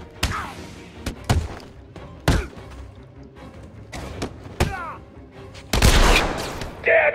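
Gunfire in the Batman: Arkham City video game, a series of sharp, loud shots and thuds in irregular bursts, ending in a dense barrage near the close.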